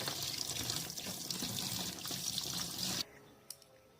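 Running water splashes steadily as small puti fish are rubbed and rinsed, then the flow stops abruptly, leaving faint drips and light clinks.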